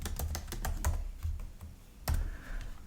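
Rapid clicking of a computer keyboard during Kotlin coding, keystrokes in quick irregular bursts with a short pause, then a sharp louder keypress and a few more clicks, close and clear.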